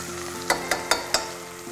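Onions frying in oil with cloves, green cardamom, cinnamon, turmeric and ginger-garlic paste, stirred with four distinct scraping strokes over a steady close sizzle.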